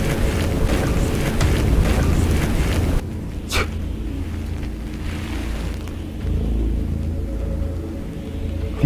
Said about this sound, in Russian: Звуки, скорее всего, просто ветер.